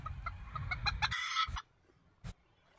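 Breeding chickens at a game farm cluck and squawk up close in a busy burst, then things go quiet with one more short cluck near the end.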